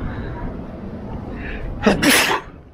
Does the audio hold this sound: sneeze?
yes